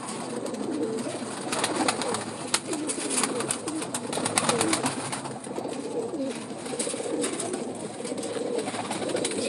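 Male breeder pigeon cooing in soft repeated low calls, close by, over a steady noisy background with no talk.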